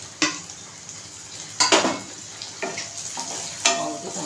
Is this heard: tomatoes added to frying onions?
yes